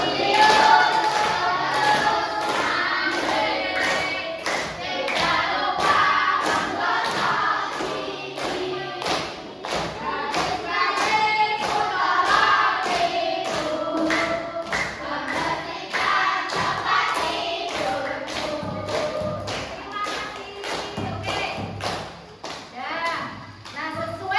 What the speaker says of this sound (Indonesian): Semua tepuk tangan ya, yang seru ya.